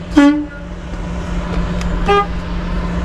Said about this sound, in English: while you're in the cab, there is stuff you need to check. Your air horn